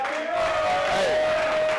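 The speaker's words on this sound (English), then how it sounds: "don't clap for me. Don't clap for me. Clap for yourself for unlocking your true potential." Audience applauding after a motivational speech, a broad wash of clapping from a crowd under a sustained tone, fairly loud and continuous.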